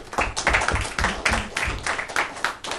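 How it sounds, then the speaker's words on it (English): Listeners at an academic lecture applaud the speakers, a sparse, small-audience patter of individual claps that comes through distinctly, steady for a few seconds. "Please join me in a round of applause for the speakers"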